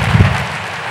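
Audience applause at a hypnosis show comes as a brief burst of dense, steady clapping, loud and close, with no one talking.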